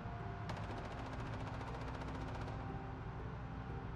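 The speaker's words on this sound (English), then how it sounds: "With some automatic gunfire." Rapid bursts of automatic gunfire rattle in a survival video game, a fast crackling volley of a couple of seconds, heard at moderate distance over a constant background hiss.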